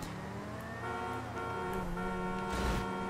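Car horns honk in steady, sustained tones amid city traffic and engine noise in the video game GTA V, loud and continuous throughout.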